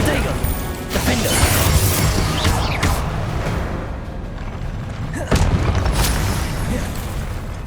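Confringo explosive-spell blasts in the Hogwarts Legacy video game: several sharp, crashing bursts spread across the clip over a loud, rumbling game ambience, with a faint voice partly mixed in.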